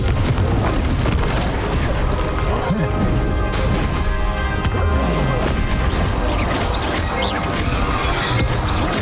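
Booming spell blasts and crashing impacts go off in a Hogwarts Legacy final boss fight, loud and continuous with a heavy rumbling low end, as a voice calls out over the battle.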